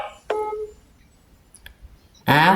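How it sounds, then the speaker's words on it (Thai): A phone's incoming-call ringtone, heard as a brief, clear electronic tone followed by a few faint clicks, and then a person begins speaking. "มันมีเสียงเรียกเข้า"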